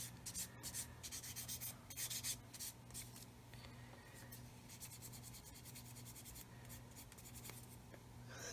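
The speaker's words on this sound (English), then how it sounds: "I'm going to take my Matador 400 grit and just remove that nib from there." A 400 grit sanding stick rubs across a plastic part from a 1/35 Meng 9K37M1 BUK model kit, giving steady close scratchy strokes with a few brisker bursts early on, alone without talk.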